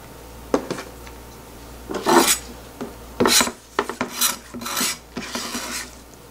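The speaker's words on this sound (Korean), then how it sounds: "부추도 조금 한 2cm 정도 간격으로 자르겠습니다" A knife cuts chives into short lengths on a board, a series of close, rasping chopping strokes in irregular bursts, some quick and light, others longer and louder, over a faint steady hum.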